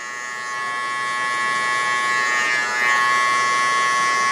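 Electric hair clippers fitted with a 1 guard buzz steadily up close while fading a taper haircut, with a constant high whine and a brief dip in pitch as the blade moves through the hair.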